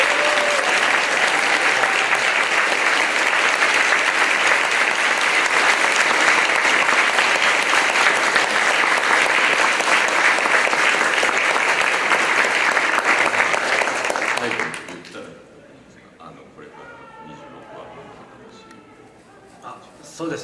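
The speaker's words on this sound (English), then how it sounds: "let's give the Space Dandy crew a warm round of applause" A crowd applauds the Space Dandy anime crew at a fan panel, loud sustained clapping for about fifteen seconds before dying away abruptly into a quieter room where a voice begins talking.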